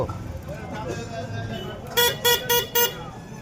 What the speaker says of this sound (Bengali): হর্ন মেরেই যাচ্ছি